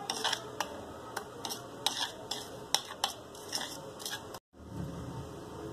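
Flour and baking powder stirred together in a bowl with a spoon for rasmalai batter, giving a run of light, irregular clinks and scrapes close by, with a brief dropout near the end.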